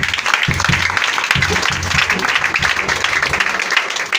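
Church congregation applauding the Lord during a sermon, dense sustained clapping from many hands filling the space, loud and continuous with no pause.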